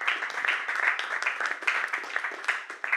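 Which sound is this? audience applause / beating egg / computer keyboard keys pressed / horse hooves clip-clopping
audience applause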